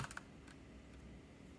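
Soft, quick keystrokes on a Keychron K3 keyboard with brown switches, a few close muted clicks at the start and then faint scattered taps over a quiet background.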